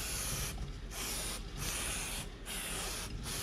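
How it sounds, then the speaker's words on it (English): Aerosol lubricant sprayed onto the drive chain of a Harley-Davidson Pan America motorcycle, heard as four loud, close hissing bursts separated by short pauses, with no talking. "So next what I do is I come to the back and I try and spray"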